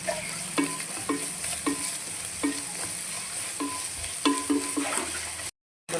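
Fish and carrot frying in a pan as turmeric is stirred in: a continuous sizzle with rhythmic spatula scrapes and knocks every half second or so, heard up close with no talking.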